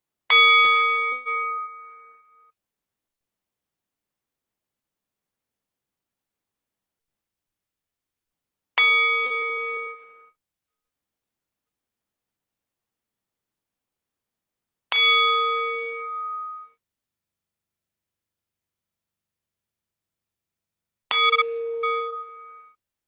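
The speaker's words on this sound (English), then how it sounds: "let's start our silent session as the bell goes on one more time" A meditation bell rings four times at spaced intervals in a quiet session, each strike bright and resonant with a sustained ringing tail that fades into near silence before the next.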